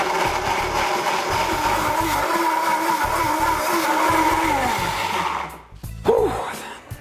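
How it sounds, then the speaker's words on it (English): A blender whirs continuously while blending a lemon cashew cream filling for raw vegan tarts, a loud close droning motor that winds down near the end, followed by a brief clatter. "And now we're gonna blend for about 20 to 30 seconds until we have a super smooth, whippy, creamy, yummy, decadent consistency."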